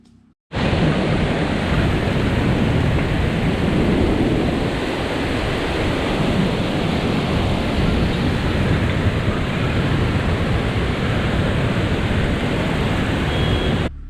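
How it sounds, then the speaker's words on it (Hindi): Heavy rain pours steadily in the mountains during a bus journey to Manali, a dense, loud and unbroken hiss that holds from start to finish with no talk over it. "और बारिश जब पहाड़ों पे होती है ना, वो पता है कैसी होती है, उसका नज़ारा मैं आप लोगों को दिखा देता हूँ।"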